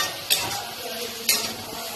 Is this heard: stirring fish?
yes